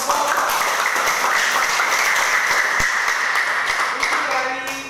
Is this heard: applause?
yes